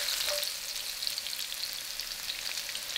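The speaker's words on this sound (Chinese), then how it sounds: "继续翻炒" Ginger, scallion and garlic stir-fry in a wok, giving a soft, hissing sizzle with light crackles throughout. The sound is quiet and steady, with no speech.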